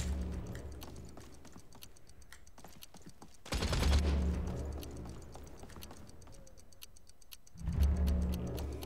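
Gunfire in the video game Realm Royale, rapid repeated shots with a couple of louder bursts of fire, heard alongside quieter ticking game sounds.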